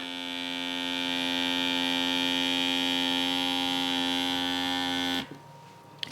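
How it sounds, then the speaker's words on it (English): A handheld vacuum sealer runs steadily on top of a jar lid, a loud, constant electric hum with a high whine that lasts about five seconds and then cuts off abruptly, leaving quiet room tone. "this handheld vacuum sealer just goes right on top of there"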